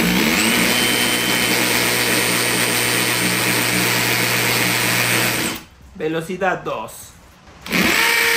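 Bosch GSB 18V-150C cordless hammer drill boring with a 5/16 bit, a loud steady high whine for about five seconds, then stopping while someone speaks briefly before the motor restarts near the end.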